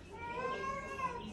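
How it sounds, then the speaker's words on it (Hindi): A wild cat meows in a drawn-out, wavering cry close by, with a faint voice mixed underneath. "मैंने क्या देखा है, जंगली बिल्ली आई हुई है।"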